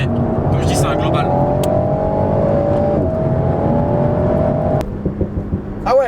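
An Alpine A110 accelerates hard, its engine note climbing steadily before a brief drop at the gear change, then pulling again, close and loud with voices talking over it.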